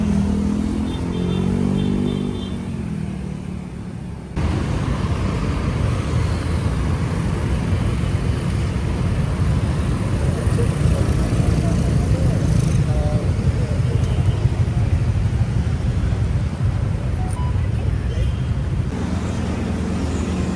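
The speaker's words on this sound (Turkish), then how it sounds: "Bayağı bir motosiklet var bu arada. Yani bayağı bir trafik yoğun." Dense motorcycle and car traffic rumbles along a Jakarta street, a steady loud drone of many engines passing close by, with a voice speaking over it.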